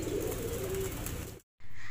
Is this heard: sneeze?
no